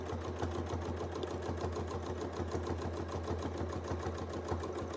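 Sewing machine running steadily through a free-motion quilting test sandwich, a continuous rapid needle chatter over a low motor hum, close and alone throughout.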